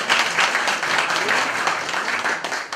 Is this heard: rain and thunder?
no